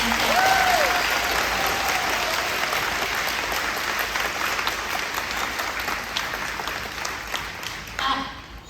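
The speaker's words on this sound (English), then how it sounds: "Can we clap for her, please?" An audience at an elementary school spring concert claps steadily for several seconds, a dense wash of applause that gradually thins out toward the end.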